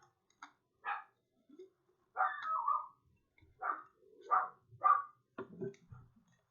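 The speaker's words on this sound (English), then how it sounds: "Don't mind my dog barking." A dog barks in short, separate bursts, some yipping, scattered irregularly across several seconds, fairly faint against a quiet background.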